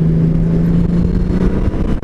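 Honda Gold Wing Bagger motorcycle engine while riding, a steady low drone with a faint tonal hum, loud and close throughout with no talking.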